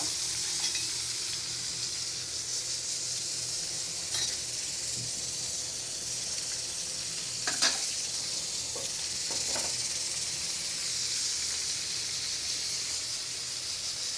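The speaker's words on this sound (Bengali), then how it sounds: "এই যে মাছটা আমি দিয়ে দিলাম ভাজার জন্য" Katla fish frying in a pan, a steady broad sizzle and hiss throughout with a few brief clinks and stirring sounds, fairly close and without talking.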